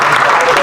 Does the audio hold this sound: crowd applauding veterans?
yes